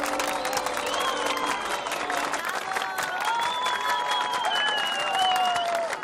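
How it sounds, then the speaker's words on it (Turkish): Lively applause and cheering from a crowd, a dense, steady clapping texture heard alongside tonal background sounds and rising slightly toward the end. "Alkış."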